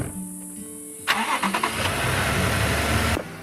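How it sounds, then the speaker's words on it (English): Out on an Idaho mountain, a convoy of five vehicles has an engine crank with a few quick stutters, then catch and settle into a steady mid-pitched idle rumble that runs for a couple of seconds before cutting off. "start heading back down the mountain with our convoy of 5 vehicles"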